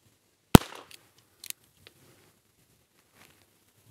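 A single sharp crack from a Colt King Cobra Target .22 revolver firing CCI Mini Mag ammunition, followed by faint clicks and handling noises in otherwise quiet surroundings.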